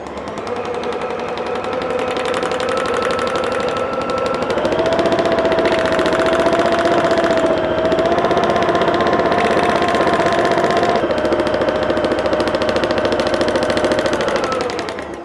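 Domestic sewing machine running steadily during free-motion quilting of a row of cursive M shapes, a continuous close mechanical hum and rapid needle chatter that shifts pitch slightly partway through and runs unbroken for about fifteen seconds.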